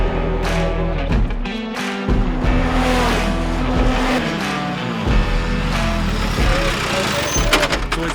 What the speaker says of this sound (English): Abby Eaton is on an absolute flyer, chasing down the CW Performance Praga R1.